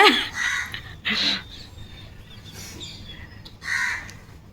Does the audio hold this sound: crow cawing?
yes